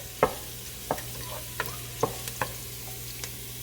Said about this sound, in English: We're going to brown this a little bit and take out half of our garlic